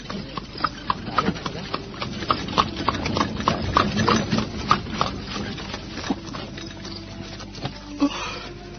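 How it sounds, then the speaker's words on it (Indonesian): A horse-drawn cart rolls along a stony road, with a steady run of sharp clip-clop hoof strikes and rattling wheels at moderate distance over a low rumbling bed, easing off near the end. "Sementara itu kereta terus bergerak menyusuri jalanan berbatu"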